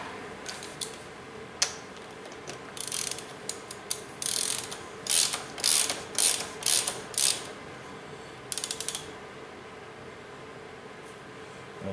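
A ratchet tool clicks while tightening the oil filter housing on a VW 1.9 SDI diesel engine, with short rapid ratcheting bursts, some longer runs and pauses, close and clear.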